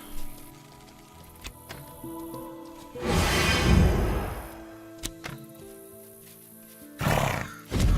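A horse in the video game Mortal Online 2 gives a loud whinny, then a second shorter neigh a few seconds later, over quiet game ambience with scattered clicks and thuds.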